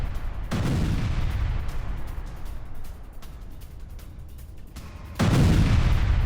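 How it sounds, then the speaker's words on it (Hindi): Explosions from Israeli air strikes on southern Lebanon: loud, heavy booming rumbles, a sustained blast opening the clip, easing into lower rumble, then a fresh powerful blast near the end. "धमाकों से दहला दक्षिण लेबनान, ब्रेक करिए जरा विद द वीडियो।"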